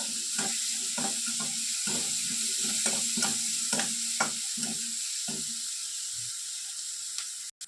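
Onions fry in oil in a pan while being stirred, a steady sizzle broken by repeated scraping clicks of the spoon, close and clear with no talking.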